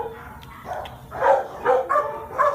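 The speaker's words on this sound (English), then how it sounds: "Oh, back to the barking." A dog in an animal shelter barking several times in close succession, loud and near, with short rhythmic bursts after a quiet start.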